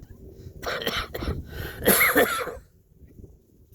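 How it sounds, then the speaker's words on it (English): Several harsh, close coughs in quick succession, with a heavier hacking burst near the end, then near-silence. "I'm still coughing"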